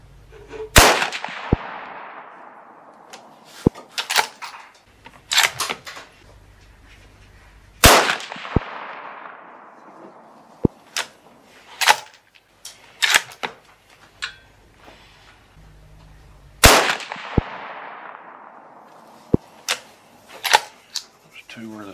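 Sharp, loud rifle shots from a Remington 700 chambered in .223 Remington at an outdoor range, three main cracks spaced several seconds apart, each followed by a long decaying echo, with smaller clicks and bolt handling in between.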